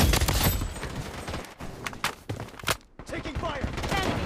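Rapid gunfire from an assault rifle in the shooter video game Bloodstrike, loud bursts of shots with brief gaps, mixed with game voice callouts.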